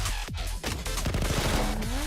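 Minigun fire in the video game Blue Archive, a dense rapid rattle of shots with a rising whir near the end, loud and continuous.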